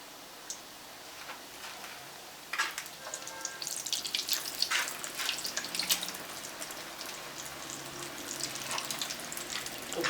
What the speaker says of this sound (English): I will put fire now and start to fry. My oil is hot.